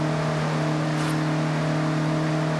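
Mazda MX-5 engine in Forza Horizon 6 holding a steady, loud drone with strong harmonic tones through a drifting corner, no voices over it.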